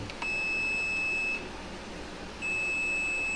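A multimeter in continuity mode beeps while testing a Nichiyu forklift circuit board: two sustained, steady high tones, the first lasting over a second and the second starting after a short gap, clear and close, with no talk.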